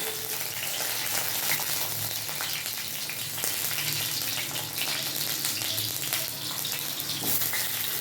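Constant loud sizzle of pointed gourd frying in a pan, with occasional stirring scrapes and no voices.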